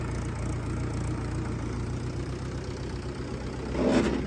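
A Mahindra 585 DI tractor engine idles with a steady low chugging drone, fairly close and even throughout, with a brief swell near the end.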